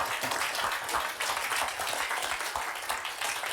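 Audience applause for swimmer Frédéric Bousquet as he is welcomed onto a round-table stage, a steady wash of clapping filling the room at moderate loudness.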